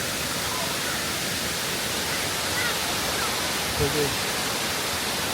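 A large waterfall at Jiuzhaigou pours down in a dense, steady roaring rush that fills the whole clip, with a voice briefly audible beneath it.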